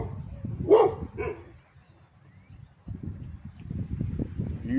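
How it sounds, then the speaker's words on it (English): A dog gives a couple of sharp barks near the start, then a quieter stretch followed by ongoing low rumbling background noise. "He's a vicious doggy."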